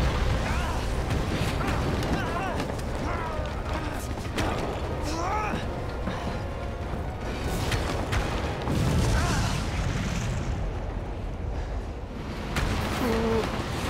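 Rocket blast from an explosion in Resident Evil 2 Remake, a dense rumbling boom sustained across the clip amid game sounds and mechanical noise, with a person talking over it.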